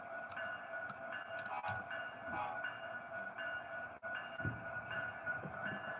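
Model train locomotive, NS number 1073, running steadily on its track in a continuous hum with a few clicks and rumbles, with no talk over it.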